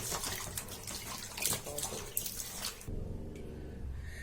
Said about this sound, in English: So now I've cleaned it thoroughly, and I'm going to wash it.